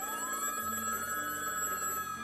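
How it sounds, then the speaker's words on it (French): A telephone rings in Resident Evil 3 Remake, an apartment phone trilling steadily with sustained electronic tones over faint background noise from outside, with no voices. "Il y a du vacarme dehors et son téléphone sonne."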